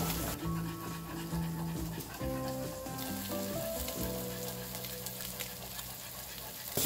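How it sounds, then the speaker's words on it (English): Sauce for shrimp and grits sizzles in a pan, a dense, steady crackle with occasional pops, fairly close, while a low tonal hum shifts underneath. "I know y'all hear that sizzling, so this sauce is gonna be good."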